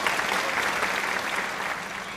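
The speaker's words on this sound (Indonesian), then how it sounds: "Mari kita beri tepuk tangan." Audience applause at an elementary school academic seminar after a proposal presentation, a steady, dense clapping that holds evenly loud for the whole stretch and eases slightly at the end.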